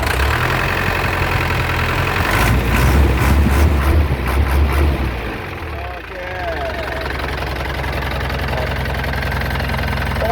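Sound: truck diesel engine idling

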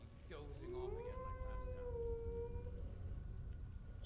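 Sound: wolves howling in the video game Skyrim

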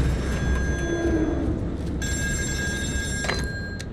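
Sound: telephone ringing in the video game Still Wakes the Deep

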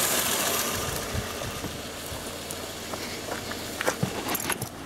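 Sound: 2000 Toyota Corolla 4E-FE engine running

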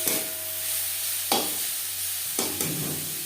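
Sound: stirring brahmi greens frying in a pan

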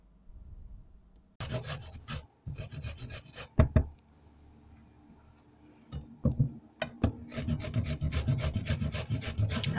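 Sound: grating carrots with a grater

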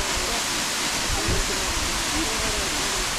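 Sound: Chikkale waterfall, Belagavi

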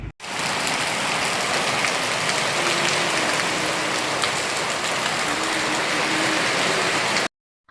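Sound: heavy rain

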